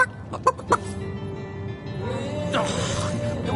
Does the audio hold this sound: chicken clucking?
yes